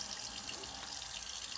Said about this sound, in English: Sorry about the water.